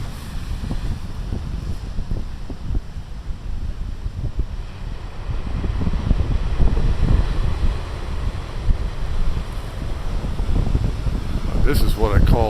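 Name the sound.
big ocean waves crashing, with wind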